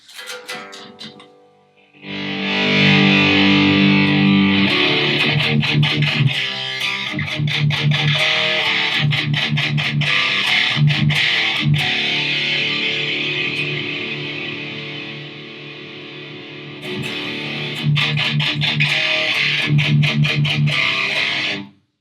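Sustained distorted electric guitar through an amp cabinet, riffing with heavy chords and chugging palm-muted hits, loud and continuous, with no voices.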